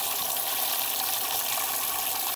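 Water pours steadily into a large cooking pot for a couple of seconds, a continuous close splashing gush heard alone.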